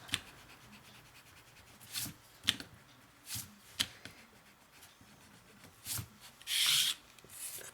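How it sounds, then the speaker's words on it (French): An eraser rubs out pencil lines on paper in short, close scrubbing bursts separated by pauses, with a longer, louder stroke near the end. "Faut pas oublier de gommer les traits ici."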